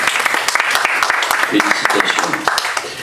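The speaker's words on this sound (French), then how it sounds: "On l'applaudit." Audience applause at a Paris inauguration ceremony of a high council, with a crowd clapping steadily throughout while a voice offers congratulations over it.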